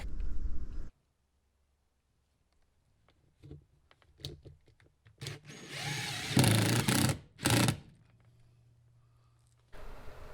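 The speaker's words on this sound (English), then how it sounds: "I'm installing the threshold here for the floor where it meets the rear deck here by the bumper, and basically just screwing these in" Power drill driving screws through an aluminum threshold into a Chevy Astro van floor, short whirring bursts separated by quiet gaps and a couple of louder, longer runs up close, with no talking.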